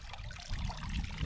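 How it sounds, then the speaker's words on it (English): Water draining from a mining sieve while digging for diamonds at the Crater of Diamonds, a soft close trickle and dribble running continuously for a moment. "Water drain."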